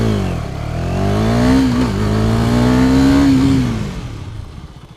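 A KTM Duke 250 motorcycle accelerates hard while practising rolling stoppies, its single-cylinder engine note rising steadily, dipping briefly at a shift, then climbing again before fading as it pulls away, loud and near, with no voices.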